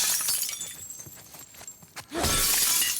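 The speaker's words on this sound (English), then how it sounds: "Oh, we like breaking glass." Glass shatters in the game Ellie's Odyssey, a sudden bright crash near the end following quieter scattered game noises, close and loud.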